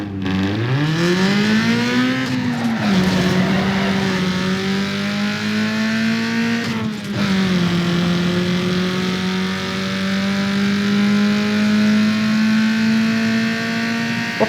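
A race car in Need For Speed Underground 2 holds a steady, loud engine drone while drifting around a corner, with its pitch rising and then settling. The sound runs continuously with no talking.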